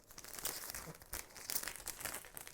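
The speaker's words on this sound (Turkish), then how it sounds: "jelatinimi açıyorum" Cellophane wrapping is opened to package a sugar-paste Christmas cookie, giving soft, quiet crinkles and small tearing rustles in brief bursts.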